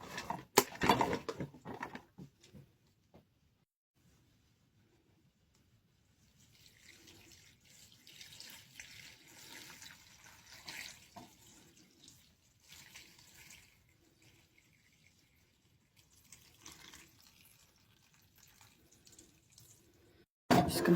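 Water runs from a tap and pours into a pot of kale, splashing in a short loud burst, then trickling faintly and patchily, while a person talks intermittently.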